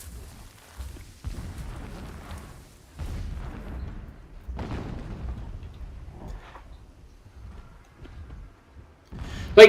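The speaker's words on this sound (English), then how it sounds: "Explosions in the distance." Distant explosions in the video game Horizon Zero Dawn, a series of muffled low booms and rumbles at irregular intervals, fairly quiet and far off, with a sharper burst at the end.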